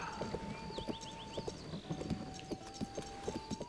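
Horse hooves clip-clopping in The Legend of Zelda: Tears of the Kingdom, a steady trotting rhythm of soft thuds alongside a sustained game tone and brief chirpy effects, fairly quiet and free of talk.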